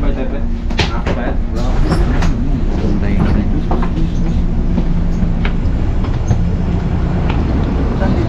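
A passenger train or tram in Croatia rolling between stations, with a loud, steady rumble and rattling of the cars heard from inside, while people talk over the noise.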